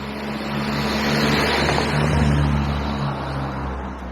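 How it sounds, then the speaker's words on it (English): Car approaching through a Kent village, a steady engine hum growing louder as it draws near and then easing slightly at the end. "there's a car coming as well"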